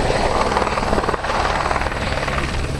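A helicopter making a fast descent during an air show in Cholet, its dense, loud rotor and engine roar steady and close throughout.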